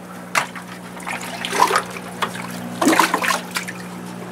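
Dechlorinated, pH-adjusted water scooped into a watering bucket, several close sloshing splashes and trickles over a steady low hum.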